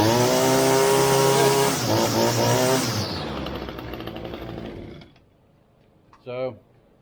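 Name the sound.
Echo PAS 225 string trimmer engine running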